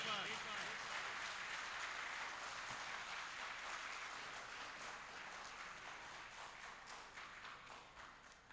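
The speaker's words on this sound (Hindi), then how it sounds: "आपकी तालियां हो जाएं फिर" Audience applause at a ghazal concert in Dubai, a dense wash of clapping that slowly fades over several seconds, with voices faintly present underneath.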